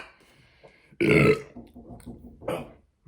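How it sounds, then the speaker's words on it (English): A loud, close burp after drinking cold Cobra beer, one long deep belch followed by a shorter second one. "A little more came up with that foam and burp than I expected."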